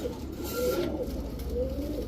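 Soft, low coos come from pigeons around a khaki female Giribaz high-flyer at a seller's, a few gentle rolling calls heard quietly and close with no talk over them.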